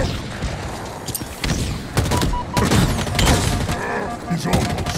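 Dense gunfire from Halo Infinite campaign combat: rapid overlapping shots and thumping impacts fill all five seconds at close range, with the loud bursts coming in uneven waves.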